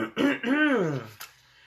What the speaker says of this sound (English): Clear my throat for this one.